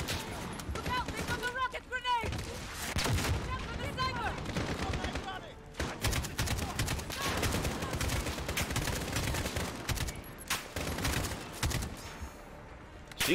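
Gunfire in Modern Warfare (2019) crackles in rapid automatic bursts and scattered shots, with a brief pause midway, while someone talks over the shooting.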